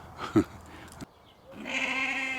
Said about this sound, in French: Donc là, c'est une race de mouton d'Ouessant. C'est une race de mouton nain.